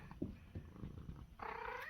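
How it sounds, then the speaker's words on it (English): A calico cat purrs softly and faintly close by, a low rumbling hum, then gives a brief higher-pitched meow-like sound near the end. "a little Anna Banana purring and giving loves"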